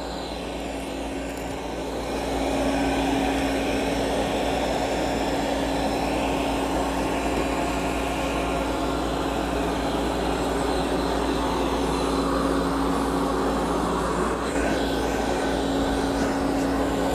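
An Amarey A800 robotic vacuum cleans a carpet with a steady, loud motor whir and brush hum that ramps up after a quieter start and holds constant.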